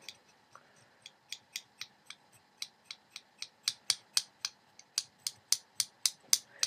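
Crisp, regular clicking from a bassoon reed being shaved with a knife repeats about three times a second, growing steadily louder as the scraping nears the end of the reed, with no talking.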